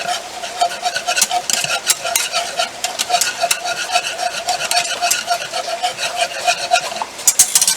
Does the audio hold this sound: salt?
yes